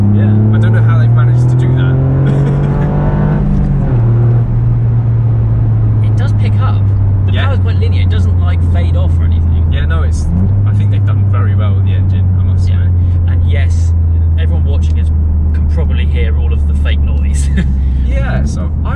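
A Toyota GR Yaris hot hatch's engine and exhaust drone steadily from the rear while driving, a low constant hum with shifts in pitch, under people talking throughout.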